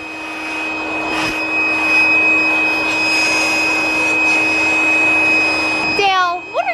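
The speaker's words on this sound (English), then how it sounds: "I got the pump going over here." An electric air pump runs with a loud, steady motor whine and rushing air for several seconds, then cuts off abruptly near the end.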